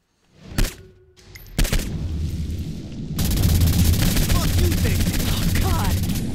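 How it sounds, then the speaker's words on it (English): Flaming-bullet gunfire in the video game Saints Row 4, opening with a couple of sharp isolated shots, then rising into a dense, sustained rattle of rapid fire that stays loud and continuous to the end. "Particularly flaming bullets."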